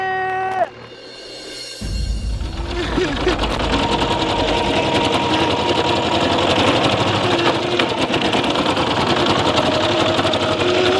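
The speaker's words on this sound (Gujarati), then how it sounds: "ઊભું રાખ ટ્રેક്ટર ઊભું રાખ" A loud tractor engine rumbles and chugs continuously after a brief musical tone at the start, running close by with steady mechanical vibration.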